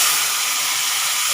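Chopped onion sizzles steadily in hot oil with mustard seeds, cumin, green chili and curry leaves for a Kathiyawadi chavanu shaak, a close, even hiss with no break.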